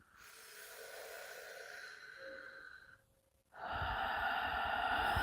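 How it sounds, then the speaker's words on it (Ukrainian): Slow, audible yoga breathing during a sun salutation sequence: a long airy inhale, a brief pause, then a stronger, breathy exhale, close to the listener with no talking. "декілька циклів дихання, вдих і видих"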